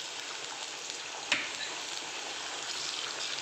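Onion and tomato fry in a pan for dal tadka, a soft, even hiss of sizzling oil with one brief spatter near the start, fairly quiet and with no talking.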